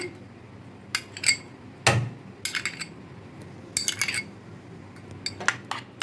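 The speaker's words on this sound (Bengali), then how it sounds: "এবারের সঙ্গে আমি আমের পাল্পটা মিশিয়ে দিচ্ছি" A spoon stirs mango pulp into cooled, thickened milk for homemade mango ice cream, clinking and scraping against the bowl in irregular close bursts with quiet gaps between.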